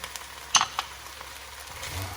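Venison sausage dropped into a hot pot gives a brief sizzle with a couple of sharp crackles and pops early on, then a low, soft frying hiss.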